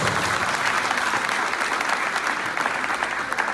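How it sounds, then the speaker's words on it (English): A crowd at a skills-centre graduation ceremony applauds, a loud, steady sheet of many hands clapping that stays even throughout with no talking heard. "Graduates, please give them a big round of applause."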